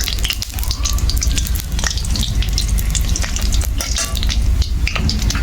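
Bay leaves dropped into hot oil in a kadai while cooking puffed rice ghonto with flattened rice, crackling and spitting loudly up close, a busy, continuous sizzle with sharp pops throughout.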